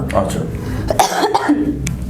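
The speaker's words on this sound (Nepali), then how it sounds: "अझै पनि स्वास्थ्य त्यो खोकी चाहिँ अलिअलि लागिरहेछ अझै पनि" A woman with a lingering cough after breathing trouble coughs in a few short, harsh bursts, close and fairly loud, with some voice sounds mixed in.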